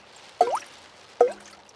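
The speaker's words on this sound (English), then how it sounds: "It is raining and the school roof is leaking again." Cartoon rain dripping through a leaking school roof: two distinct, fairly loud plinking drips about a second apart, each with a short bright splash, over a quiet background.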